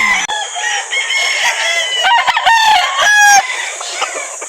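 Roosters crow loudly at close range, overlapping with clucking hens in a busy, noisy flock at a chicken market in Calauan, Laguna.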